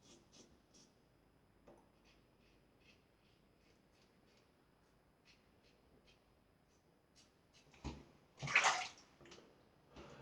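Water splashes and trickles briefly near the end during a wet shave, a close, quiet burst after a long stretch of faint room sound with small clicks.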